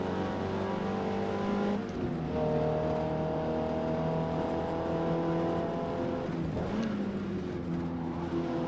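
Mazda MX-5 engine in a D-class race at Hakone in Forza Motorsport, a steady loud whine with rising and falling pitch through gear shifts, drops off around two seconds and again near seven, with no talk.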